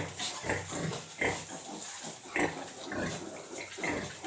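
A sow grunts repeatedly to call her piglets at feeding time on a farm, a series of close, rhythmic low grunts with some background rustling.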